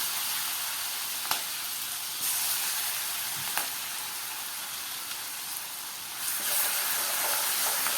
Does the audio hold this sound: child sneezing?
no